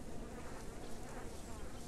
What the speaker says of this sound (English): Why do I hear, like, bees?